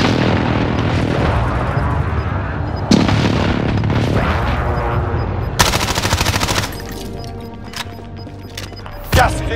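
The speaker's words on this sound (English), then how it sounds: "Enemy precision airstrike" Enemy precision airstrike in Call of Duty: Modern Warfare, a loud barrage of rapid booming explosions and gunfire-like blasts crashing in repeatedly, with sharp impacts cutting through a dense rumbling roar.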